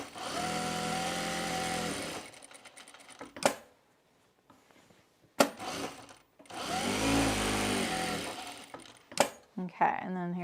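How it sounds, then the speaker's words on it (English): A home sewing machine runs in two bursts of steady stitching while a jacket pocket is sewn down around its edges, with short pauses and small handling clicks between runs. "I'm just going to sew around the perimeter of my pocket just to secure it"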